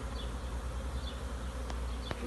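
Honeybees buzz in flight around a newly installed nucleus colony, a steady close swarm drone filling the whole stretch, with faint brief ticks near the end and no talking.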